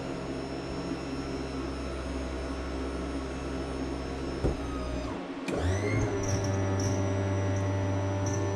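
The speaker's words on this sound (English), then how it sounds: "Power tilt trim is working." Power tilt trim motor on a 1977 Starcraft boat, a steady electric whine and hum that briefly stops and restarts in a changed pitch, close and alone.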